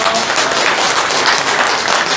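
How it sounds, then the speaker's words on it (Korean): A large audience at a Korean town association's New Year gathering gives a loud, dense round of clapping to welcome a former vice minister as guest lecturer, steady and close throughout. "큰 박수로 맞아주십시오"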